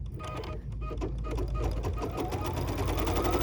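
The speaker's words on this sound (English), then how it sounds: "So now we're going to stitch the placement line for" A sewing machine stitches the placement line for a trailer hitch appliqué piece on a free-standing camper design, running as a steady, continuous rapid mechanical hum close up, with no talking.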